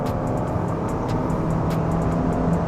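Abarth Rivale car accelerating hard, a steady dense engine roar heard from inside the cabin, loud and continuous with no talk over it.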